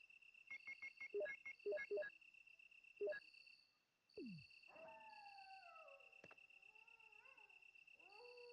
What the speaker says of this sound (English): dogs howling was just amazing.